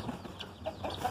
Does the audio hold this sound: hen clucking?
yes